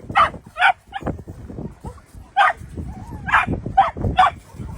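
Puppies at a dog shelter give short, high yips and soft whimpers in close, irregular bursts, loud and near with brief quiet gaps between calls.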